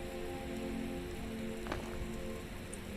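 Steady rain in Skyrim patters on a surface, a soft continuous hiss with no voices.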